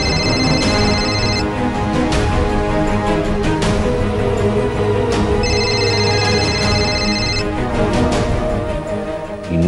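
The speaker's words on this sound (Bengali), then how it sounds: "ইন্ডিয়া থেকে ফোন," A telephone rings loudly in a Bengali TV drama scene, with two separate bursts of trilling electronic ringing over a dense background score.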